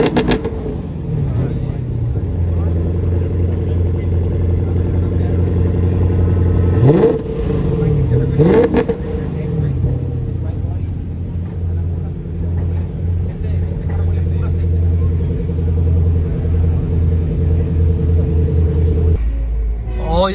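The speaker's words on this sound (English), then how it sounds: "All you can hear out there is the horns going off and engine revs." Car engines idling and revving at the SEMA Ignited parade, a loud, close, steady low rumble with a couple of rising revs that swell and fall away, and horns sounding in the crowded street.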